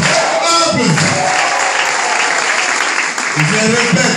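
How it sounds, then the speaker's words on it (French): Sustained applause from a large crowd at an Easter ceremony on Mont Mangadzi in Dolisie, loud continuous clapping with voices talking over it near the start and end. "Donc même, attendez, il faut applaudissez."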